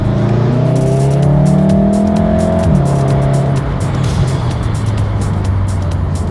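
A VW Mk7.5 Golf GTI or Golf R accelerating hard: a loud, close engine note climbs steadily, drops briefly at a gear change, then pulls on under constant road and wind roar, with no talking.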